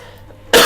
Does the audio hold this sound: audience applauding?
no